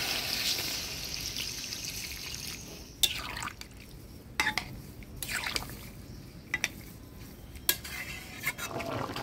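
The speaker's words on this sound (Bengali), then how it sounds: "এবার ঝোল দিয়ে দেবো।" Broth poured into a pot of soybean and vegetable curry on a village stove, a wet splashing pour followed by scattered clinks of a metal spoon against the pot.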